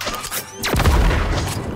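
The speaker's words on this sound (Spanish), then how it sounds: "puedes probar los fuegos artificiales experimentales" Experimental fireworks go off in Disney Dreamlight Valley, a sharp launching whoosh followed by a loud booming burst and crackle, a single close blast with a rumbling tail.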